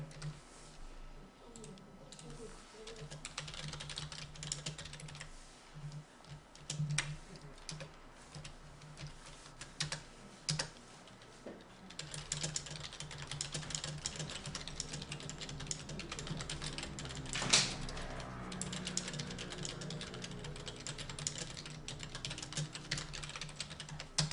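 Continuous keyboard typing in Hangul word-processing software, a steady stream of light, quick key clicks at moderate distance with a few louder taps and no talking.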